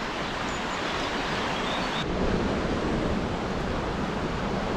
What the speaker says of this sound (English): I've got the river on my right hand side.